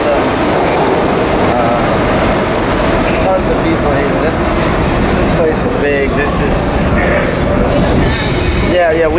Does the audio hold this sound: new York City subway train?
yes